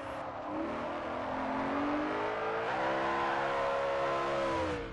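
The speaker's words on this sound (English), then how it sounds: "we've got a shitload more power, and that's already showing itself in the corners as the car is now just going very sideways" A car drifts sideways through corners in the Forza racing game, with its engine revving in a rising, whining tone while the tires slide. The sound is smooth, continuous and fairly quiet, with no voices.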